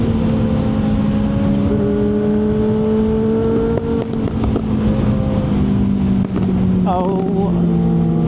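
A Kawasaki Ninja ZX-6R 636 motorcycle revs hard and close, its high engine note sweeping and shifting steadily with a brief rise near the end, loud and continuous throughout.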